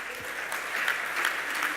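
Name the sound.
audience applause at symposium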